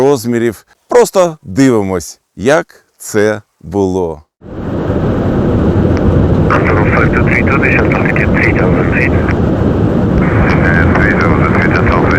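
An An-124 transport aircraft lands at Hostomel airport, its loud, steady engine roar filling the scene after several short bursts of speech, with a higher whine rising over the rumble partway through.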